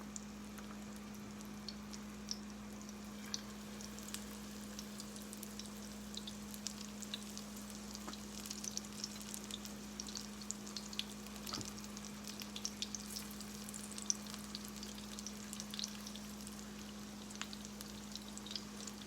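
Crawfish corn fritters fry in grease, a quiet, steady crackle and sizzle with scattered small pops running the whole time, over a constant low electrical hum.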